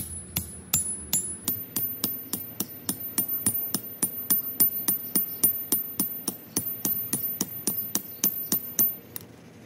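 A 2.5-pound sledgehammer driving tent stakes: a long run of sharp, evenly spaced metallic strikes, close and loud, settling into a steady fast rhythm of about two blows per second.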